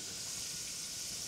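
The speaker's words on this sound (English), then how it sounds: "So I have 2 tablespoons of melted butter. I'm gonna add my onion. Ooh, nice sizzle." Onion and garlic frying in melted butter, a close, steady sizzling hiss that stays even for the brief moment, with no voice.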